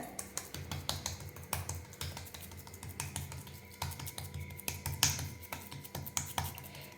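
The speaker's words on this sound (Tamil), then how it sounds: "இப்போ இந்த மாவை இந்த மாதிரி ஒரு துணியில் வச்சுட்டு தட்டிடலாம் பாருங்கள்" Cucumber roti dough patted flat by hand on a cloth, giving a quick, irregular run of soft dull pats and light taps, close and fairly quiet, with no voices.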